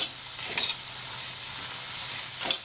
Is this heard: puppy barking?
no